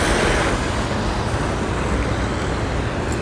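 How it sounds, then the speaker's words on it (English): Dense road traffic on Mombasa Road, a steady loud wash of engines and tyre roar from cars, buses and trucks, with no voices. "So this is the traffic in Mombasa Road."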